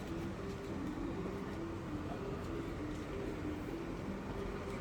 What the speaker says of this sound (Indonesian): ini kebetulan keretanya udah datang